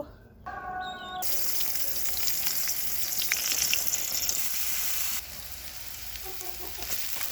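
Eggplant slices coated in turmeric, salt and chili fry in hot oil, a steady broadband sizzle running throughout with a few brief tonal clinks near the start and a slight drop in level toward the end.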